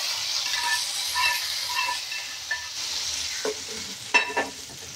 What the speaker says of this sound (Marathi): मी त्याला वरून चरचरीत फोडणी देत आहे